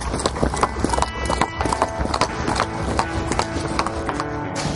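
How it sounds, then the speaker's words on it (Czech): Horse hooves clip-clopping loudly and close as a horse is led before shoeing, a steady run of sharp hoof strikes on a hard surface, with faint voices underneath. "Před podkováním koně je třeba si koně předvéc"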